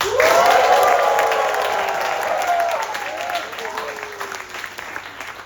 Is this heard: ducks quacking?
no